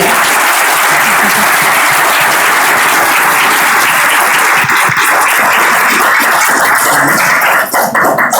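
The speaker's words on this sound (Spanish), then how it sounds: "Yo quiero que ese fuerte aplauso se escuche hasta Pereira." An audience at a medical talk on vaccines in hemato-oncology patients gives a loud, sustained round of applause, dense clapping from many hands filling the whole stretch, close and strong throughout.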